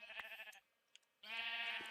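Sheep in the video game Minecraft bleat twice: one clear bleat, a short quiet gap, then a second, louder and longer bleat, both close and alone.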